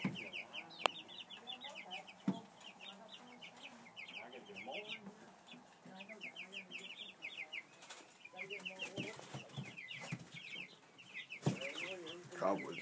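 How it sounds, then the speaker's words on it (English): Chickens cluck and chatter steadily in a coop among roosters, with repeated bursts of calling and occasional wing flaps at moderate volume; a person talks intermittently over the birds. "We never named these chickens yet."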